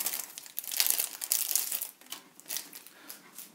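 Crisp foil wrapper of a board-game booster pack for Alien Frontiers crinkles and tears up close, a burst of bright crumpling rustle with the cards slid out, no talk.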